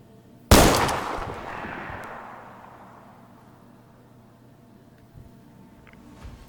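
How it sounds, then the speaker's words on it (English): A single sharp gunshot from the VR shooter game Zero Caliber cracks loudly, then its echo tails off over a couple of seconds into a quiet background. "I wonder, can you shoot yourself with this?"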